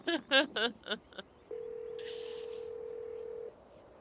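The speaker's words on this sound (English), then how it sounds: "You pull out your phone and dial your cousin." A phone in the video game Scarlet Hollow dials out with a short run of quick beeping tones, followed by a single steady ringing tone held for about two seconds, clear and moderately quiet, with a faint hiss partway through.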